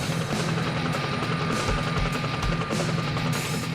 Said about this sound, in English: The fire rescue helicopter surveys the scene